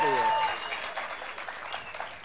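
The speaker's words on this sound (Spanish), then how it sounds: "Un fuerte aplauso, mi gente." A studio audience on a talk show applauds Ferdinand Pérez, a modest round of clapping that starts over a short tone and tapers off quietly while talk continues beneath it.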